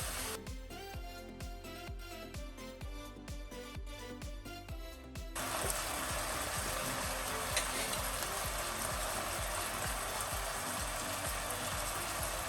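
Sweet and sour pork ribs sizzle loudly and steadily in a reducing sauce in a saucepan while being stirred and flipped; music plays for the first few seconds, then the dense sizzle continues alone.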